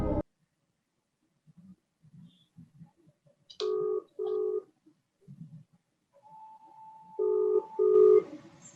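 Telephone dialing to call a friend during a quiz show, with a series of paired keypad tones in short bursts followed by a steady ringing tone, clear and close amid quiet pauses.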